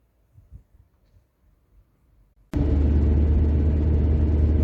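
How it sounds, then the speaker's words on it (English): A Honda D series engine in a 1990 Rover 216 GSi automatic starts up after a quiet stretch, then runs as a loud, steady, throaty drone while the car drives off, close to the microphone. "the throaty sound of a Honda D series engine"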